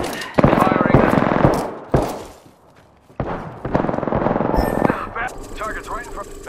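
Bursts of automatic gunfire in the Apex Legends video game, several loud rapid volleys separated by short gaps, with a higher-pitched effect near the end and speech mixed in.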